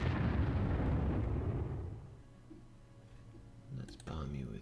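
A bombing explosion in the wartime strategy game Panzer Corps erupts as a loud, broad blast that decays over about two seconds into a low rumble, followed by a brief burst of clicking and a short second pop.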